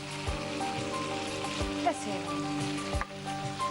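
Tomato added to a hot pan, crackling with a steady sizzle and a few sharp clatters of a utensil, under a sustained tonal hum in a home kitchen.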